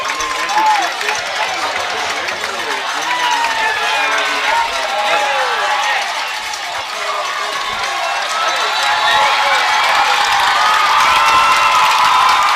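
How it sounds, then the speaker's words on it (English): Crowd on both sides of a high school football game at Northwest High cheering and hollering throughout, steady and lively, with voices shouting in the mix. "You can hear the crowd hooping it up on both sides"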